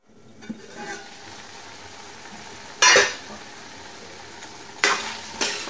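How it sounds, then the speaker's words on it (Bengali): Raw tomatoes cooking in their own juice in a pan give a quiet, steady bubbling hiss, broken by a few short bursts of spatula scraping against the pan, with no speech. "টমেটো দিয়ে জল বেরিয়েছে, সেই জলে টমেটোটা আমি সেদ্ধ করে নিচ্ছি।"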